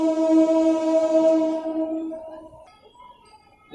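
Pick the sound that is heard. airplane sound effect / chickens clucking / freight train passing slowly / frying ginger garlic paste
freight train passing slowly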